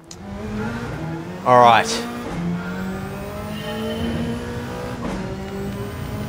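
Toyota Supra GT500 race car in Gran Turismo 7, its engine droning steadily with a brief high whine and a quick rising rev, while someone talks briefly.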